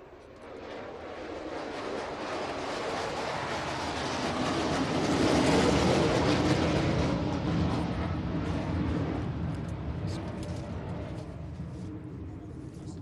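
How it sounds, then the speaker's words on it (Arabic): A formation of four multirole military jet aircraft passes during a tactical exercise, a broad roaring rush swelling to a peak midway and then slowly fading, heard alone without talk. "يتقدم تشكيل جوي من جهة اليمين واليسار بقوة 4 طائرة متعدد المهام"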